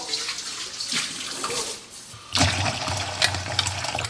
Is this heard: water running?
yes